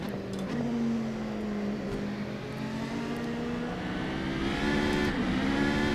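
Simulated car engine in Assetto Corsa played in VR on a Quest 2, a steady droning motor with rising and falling rev pitch as the car drives, continuous and fairly close with no talking.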